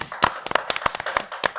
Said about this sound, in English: Let's give our guest a round of applause.